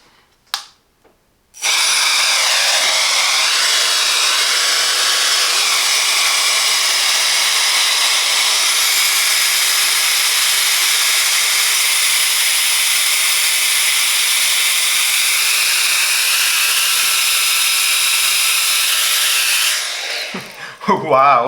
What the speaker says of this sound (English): And I will test the vacuum.